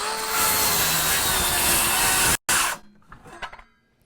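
A DeWalt DCS577 7-1/4-inch rear handle circular saw cuts through timber with a loud, steady high whine, stops abruptly, then briefly spins down with a few fading clatters.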